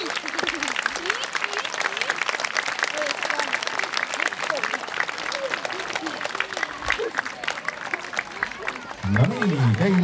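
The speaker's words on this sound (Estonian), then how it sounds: "Teeme veel korra suure aplausi." Audience applause after a folk dance performance at an outdoor midsummer celebration in Keila, with steady dense clapping throughout and a brief voice rising over it near the end.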